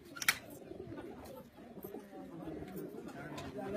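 Pigeons cooing softly in an outdoor setting tied to pigeon keeping, with low murmuring calls running steadily through the clip under faint background chatter and one brief sharp noise near the start.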